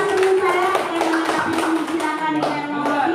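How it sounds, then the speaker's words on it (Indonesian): A small indoor group claps hands after a question during a teachers' module session, brisk uneven patter lasting a few seconds, with voices mixing in over the clapping. "Tepuk tangan."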